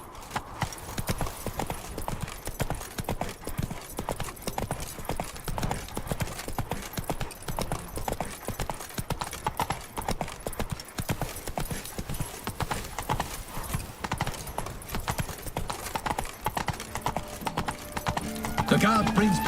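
Roach, a horse in The Witcher 3: Wild Hunt, gallops with a steady, loud clip-clop of hooves throughout, with occasional game voices and background sounds mixed in.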